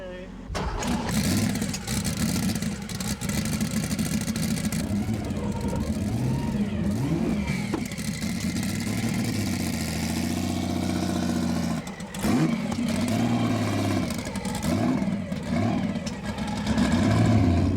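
A Porsche 935 race car's engine runs as it sets off on easy laps, a loud, continuous mechanical drone that rises and falls in pitch with revving, briefly dipping before picking up again, with voices talking over it.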